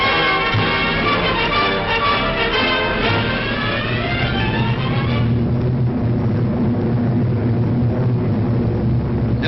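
Fleets of WWII propeller warplanes fly overhead, a dense continuous drone of many engines with a steady throbbing hum that shifts in pitch midway, heard over an old band-limited newsreel soundtrack.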